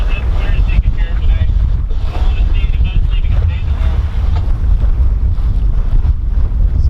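A Dana 24 sailboat under sail at about five knots, with steady wind buffeting and rushing water along the hull filling the whole stretch loudly and close.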